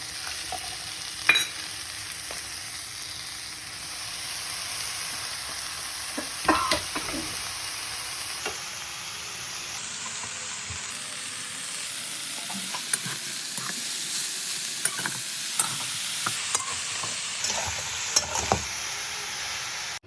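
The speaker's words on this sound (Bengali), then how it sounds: "এই তো মা পালং দিয়ে একটু নেড়ে দিয়েছি।" Spinach and bori (dried lentil dumplings) sizzle in a pan while being stirred, a steady frying hiss broken by scattered spoon scrapes and clinks, close and fairly loud, with no talking.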